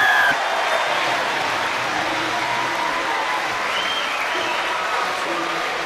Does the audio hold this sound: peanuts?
no